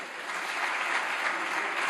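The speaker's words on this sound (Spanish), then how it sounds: "ustedes aplauden cualquier cosa y aplauden a cualquiera" Dense applause in the Spanish parliament during a session, a steady close wash of many hands clapping without pause for the whole short stretch.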